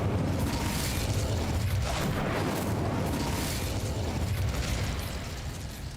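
The Incendio fire spell cast in Hogwarts Legacy, a loud roaring burst of flame that swells into a sustained, explosive whoosh and fades slightly toward the end.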